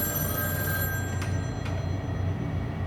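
An old telephone bell rings over the steady roar of a 1982 Emerson 24-inch whole house fan running indoors, the ring faint and partly buried under the fan's constant drone.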